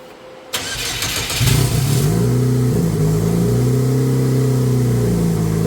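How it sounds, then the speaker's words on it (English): An unusual offroad vehicle's engine cranks and fires up, then settles into a loud, steady, low idle with a droning rumble close by. "So I'm going to have Naomi go ahead and fire it up."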